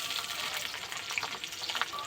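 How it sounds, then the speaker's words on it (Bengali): Chopped onion fries in hot oil in a wok with a steady, crackling sizzle and small bursting pops, close and even throughout, with no voices. "কড়াই তেল আছে, তেলের মধ্যে পেঁয়াজ কুচি দিয়ে দেব"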